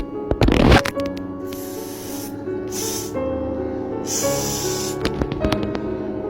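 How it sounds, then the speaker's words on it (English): Blue raspberry Slush Puppy liquid candy spray spritzes in three short hissing puffs, close to the mic, each a quick burst of spray like a deodorant can, over a low background hum after an initial rustle. "It's got a little spray like deodorant."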